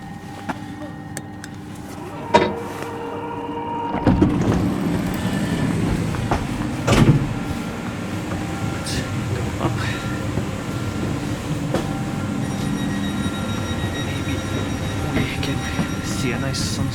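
Inside a regional train carriage in Mecklenburg, a steady rumbling ride with occasional thumps and clicks from the track, door or boarding noises early on, and brief talking near the start.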